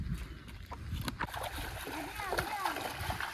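River water splashes and sloshes close by in short irregular bursts as people bathe, with people talking throughout.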